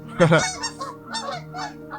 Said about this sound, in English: You got the birds out here.